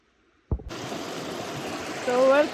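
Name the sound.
river stream flowing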